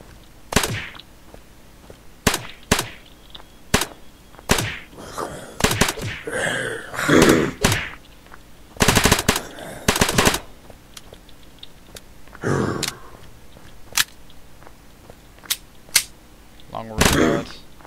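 Gunfire from the video game Unturned, sharp single and short-burst shots spaced irregularly across the span, loud and close, with brief mechanical clicks and handling noises between them.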